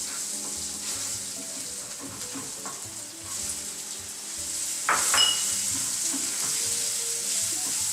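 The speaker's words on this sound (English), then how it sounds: "they're frying now" Chopped onions frying in oil with turmeric sizzle steadily in a pan, stirred now and then with soft utensil clinks and one brief sharper clatter.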